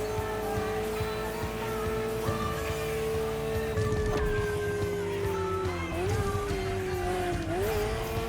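A Ferrari F40 engine in the racing game The Crew Motorfest holds a thin, buzzing toy-like drone that sustains at a steady pitch, then dips and rises with shifts near the end, with tire noise underneath.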